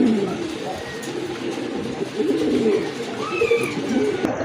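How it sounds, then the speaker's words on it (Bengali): Cooing of a large Rajgolla fancy pigeon in a loft, soft repeated low coos mixed with other birds' calls and a steady background murmur. "এটা হচ্ছে রাজগোল্লা কবুতর, অনেক বড় সাইজের কবুতর।"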